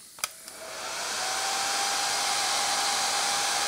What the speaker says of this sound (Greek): Το πιστολάκι μας είναι έτοιμο, το βλέπουμε τώρα